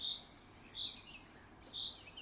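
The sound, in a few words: birdsong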